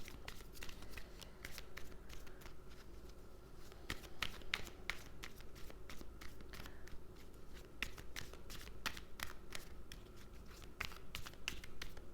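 Energy oracle cards being shuffled by hand, a steady run of close, crisp riffling clicks and soft card slaps that continues without a break and without talk.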